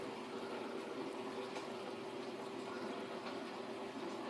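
Chicken dumplings simmer in a pot of boiling liquid, giving a steady, faint bubbling hiss with a low, even roil that continues without pause.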